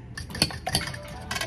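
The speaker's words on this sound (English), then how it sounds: "Let's go ahead and mix that together." A spoon stirs an egg into batter in a mixing bowl during family meal prep, making quick close scraping clinks in a short irregular burst.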